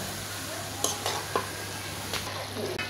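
Cabbage and green chilies are stirred into chicken frying in a pan, giving a steady sizzle with several sharp scrapes and clinks of a spoon against the pan, close and without talk.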